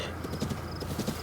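Horse hooves clip-clop in Zelda: Breath of the Wild, with a faint whinny in a short, steady burst of game sound. No talk is heard over it.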